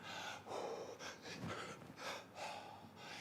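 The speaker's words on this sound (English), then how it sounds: "I'm trying to regulate my breathing to my movement." Heavy, rhythmic breathing during crunches and other core exercises, with several forceful exhales and sharp inhales close to the microphone, paced in time with the movement.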